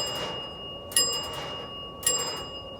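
Old gas pump bell ringing as the pump is cranked: two bright metallic dings about a second apart, each ringing out and decaying, close and clear over a steady low background hum.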